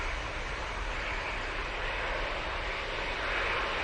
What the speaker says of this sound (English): And that 321neo is off to Antalya.